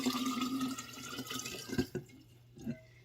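About half a gallon of water is poured into a glass jar, a close splashing, gurgling stream that tapers off into a few drips.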